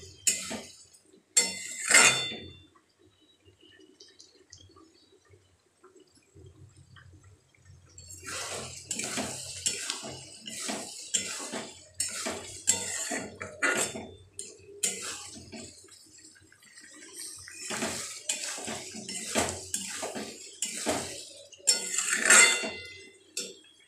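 Potato and pointed gourd are sautéed with masala in a pan, with intermittent metal scrapes and clinks from stirring that start after a quiet opening and continue in uneven bursts.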